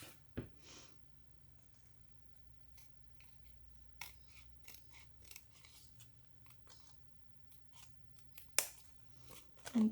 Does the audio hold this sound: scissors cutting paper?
yes